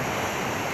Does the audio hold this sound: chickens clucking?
no